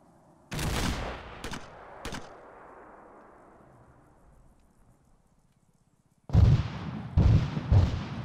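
Gunfire and grenade blasts in the ARMA 3 military game: a loud, close burst of shots with a long, rumbling fading tail, then a pause and another heavy cluster of explosive shots.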